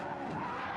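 Tires screech in a brief, continuous skid as a car spins donuts in the drag racing game Racing Rivals.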